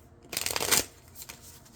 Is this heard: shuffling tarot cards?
yes